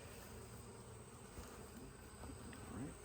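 Honeybees hum in a dense, steady drone around an open hive during an inspection, close and continuous with no pauses.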